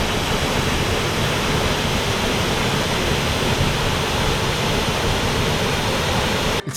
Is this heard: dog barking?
no